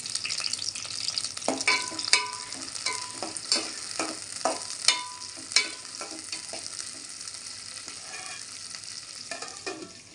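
Chopped onion and green chillies fry in a pan for chicken curry, with a steady sizzle broken by repeated scraping stirs of a spatula, loud and close.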